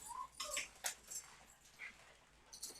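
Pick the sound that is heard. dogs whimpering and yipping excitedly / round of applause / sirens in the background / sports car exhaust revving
dogs whimpering and yipping excitedly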